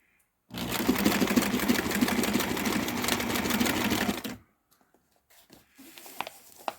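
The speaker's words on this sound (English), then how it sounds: "I clamped the sewing machine here down so that it didn't move either" Sewing machine stitching sail cloth during a sail repair, the machine clamped down, running steadily for about four seconds in a dense, rapid mechanical whirr, then stopping, followed by a few faint clicks and handling sounds.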